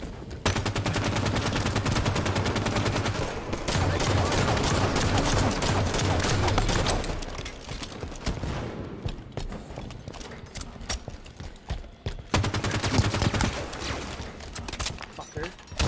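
Sustained assault rifle fire in a Halo 5 Guardians multiplayer match, dense rapid bursts through the first seven seconds, then sparser shots and game noise, with a voice talking over parts of it.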